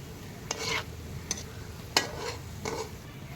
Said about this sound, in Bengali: আমার দু পিট ভালো করে লো ফ্লেমে ভাজা হয়ে গেছে